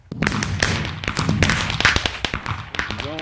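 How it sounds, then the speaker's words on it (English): Fireworks go off in Minecraft with an FTB modpack, a dense run of close sharp bangs and crackling pops that fill the whole stretch before fading into a brief fizz. "Let's see the fireworks."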